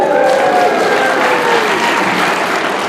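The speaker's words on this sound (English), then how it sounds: "I love that you're clapping for popcorn." Steady applause from an audience, dense and continuous for a few seconds with no talking over it.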